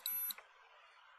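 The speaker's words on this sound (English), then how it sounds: "In a minute, you're going to hear the beeps" Two short, high electronic beeps from a police body camera sound close together at the start, followed by quiet hiss.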